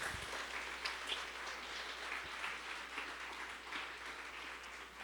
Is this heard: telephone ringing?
no